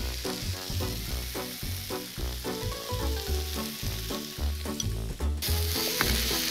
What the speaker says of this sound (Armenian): ավելացնում ենք կտրատած բամիդորները։ Թողնում ենք մոտ երկու րոպե իրար հետ եփեն, խառնելով